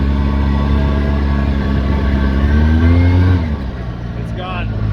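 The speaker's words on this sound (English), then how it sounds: "the motor sounds good. Everything's smooth" A 2013 Polaris RZR 800 engine with a newly replaced cam revs up and holds a rising, smooth drone before easing back, loud and close, with a voice talking over it.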